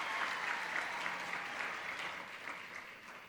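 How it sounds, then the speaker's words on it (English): A graduation audience applauds a Faculty of Commerce graduate at a ceremony, a steady wash of many hands clapping at moderate distance that tapers slightly toward the end. "A round of applause."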